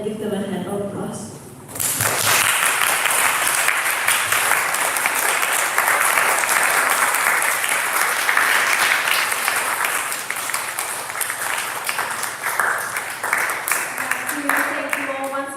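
An audience applauds the speakers, organizers and participants at the close of an academic music event. The clapping swells in after a brief moment of speech, then holds as a dense, steady wash before easing slightly near the end.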